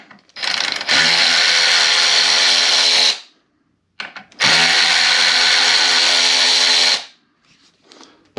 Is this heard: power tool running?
yes